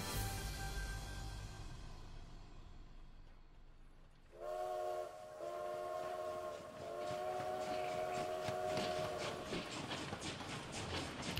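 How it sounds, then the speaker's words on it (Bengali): A train approaches Howrah station, its horn sounding in long sustained blasts over the rumbling, rhythmic clatter of carriages on the rails, loud and close, with no talk. "ট্রেনটা আর কিছুক্ষণের মধ্যেই হাওড়া স্টেশনে ঢুকবে।"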